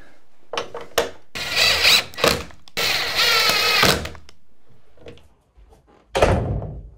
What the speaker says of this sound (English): Put the latch in, doorknob. Strike plate.